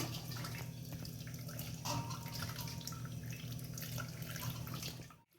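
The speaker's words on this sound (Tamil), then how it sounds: "இதில் இது ஒரு அலசையில் நான் அலசி எடுக்கேன்." Boiled grapes rinsed under running water in a strainer, a steady close splashing of the tap with drips and water hitting the fruit, cutting off at the end.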